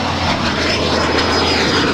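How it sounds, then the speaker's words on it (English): Air New Zealand Airbus A320 jet taxiing at LAX, a steady loud engine roar and whine with a faint high tone, continuous and without talk. "There's an Air New Zealand A320 on the north side, taxiing."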